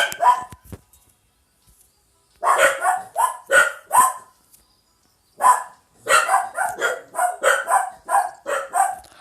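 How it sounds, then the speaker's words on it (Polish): Dogs bark repeatedly in the video game Hay Day in quick bursts, some yappy and overlapping, after a brief quiet start; loud and close, with a few short pauses between volleys. "Te psy nigdy moje się nie nauczą. Ciągle szczekają."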